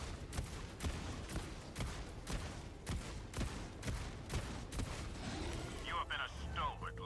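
An autocannon exosuit firing in Helldivers 2, heavy booming shots in a steady rhythm of roughly two per second, loud and close over battle noise.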